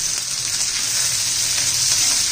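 Cabbage, carrot and tomato sautéing in a hot pan, a continuous close, loud sizzling hiss with faint stirring scrapes underneath, steady throughout.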